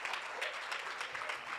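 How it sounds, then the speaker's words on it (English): Brief audience applause at an Economic Development Fund report launch, a dense burst of clapping from a gathered crowd, fairly close and even. "I do want you to give me a round of applause"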